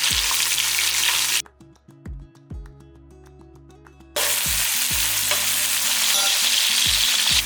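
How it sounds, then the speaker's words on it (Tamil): Onions sauté in a pan for chicken biryani with a loud, close sizzle. It drops away briefly partway through while a few scraping stirs sound, then the frying returns at full strength. No one speaks. "இந்த வெங்காயம் எல்லாமே நல்லா வதக்கட்டும்"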